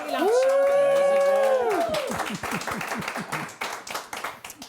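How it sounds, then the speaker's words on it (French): An audience claps in a burst of applause that starts over a sung or spoken tone, then patters on in uneven, thinning claps to the end. "je pense que vous avez entendu les applaudissements"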